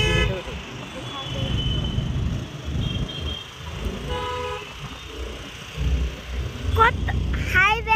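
Highway traffic in Bangalore, a steady roar of passing vehicles with several car horns tooting near the end, while people talk over it.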